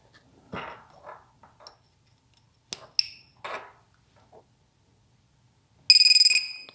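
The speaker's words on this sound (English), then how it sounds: "There's the buzzer, nice and loud." A loud, sharp electronic beep from the buzzer on a Matek F765-WSE flight control board sounds near the end, steady and piercing, after a few short clicks and knocks.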